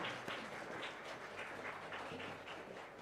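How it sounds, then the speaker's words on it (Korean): A church congregation at a Christmas service in Tashkent applauds together, a steady, moderately loud wash of many hands clapping at once, filling the space evenly for a few seconds without any voices on top. "우리 하나님께 영광의 박수 함께 올려드리겠습니다"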